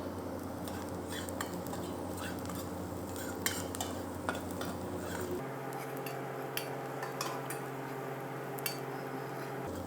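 Onion, ginger and garlic frying in a pan for red rice khichuri, a steady sizzle under frequent scraping stirs and light clinks of a spoon on metal, with a low hum that drops away partway through.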